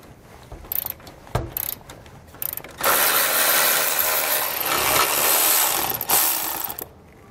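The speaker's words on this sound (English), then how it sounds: "We'll use an 18 millimeter socket to remove the nuts." An 18 mm socket on a ratchet loosens nuts on the frame rail of a 2018 Ford during a front-mount trailer hitch install. Sparse clicks come first, then a loud sustained ratcheting whir up close.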